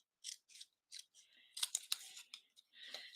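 Scissors trimming paper card pieces for handmade card making, a series of short close snips and slicing cuts, some separated by brief pauses, with no talking.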